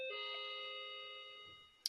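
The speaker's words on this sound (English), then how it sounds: "Sorry, that's my doorbell." A home doorbell chimes once, a sustained ringing tone that slowly decays, fairly faint and alone, with a brief knock-like sound at the very end.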